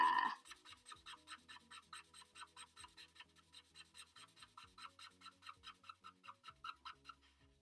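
Steady, rhythmic scratching of a felt-tip pen colouring back and forth across paper, close and fairly quiet, with no talking.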